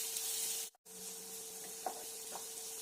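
Onion frying in a pan over medium heat: a steady, even sizzle and hiss, briefly cut off once, with a couple of faint stirring scrapes.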